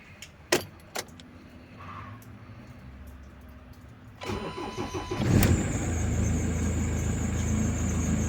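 A Ford car's ignition key clicks and jingles, then the engine cranks and catches with a loud burst and settles into a steady close idle; the car has an intermittent starting fault and a squealing belt.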